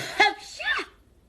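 A single sharp, close sneeze with a quick two-part burst, followed by silence.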